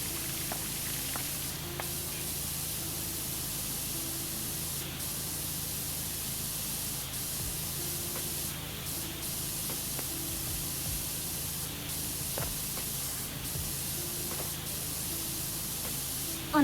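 Water jetting from a tight washer nozzle, a steady loud hissing spray that holds nearly unbroken throughout, with small shifts and faint clicks as the stream moves over the surface being cleaned.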